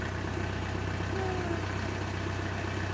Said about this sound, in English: it's a pretty quiet tractor, really. I guess that's a good thing, but a diesel's supposed to sound like a diesel.